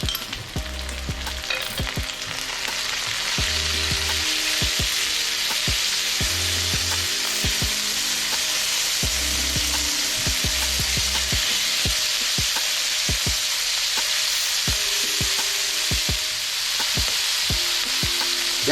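Marinated pork fries in a hot pan with a loud, continuous close sizzle, punctuated by frequent sharp clicks and occasional low thumps of the pan being worked, and no voices.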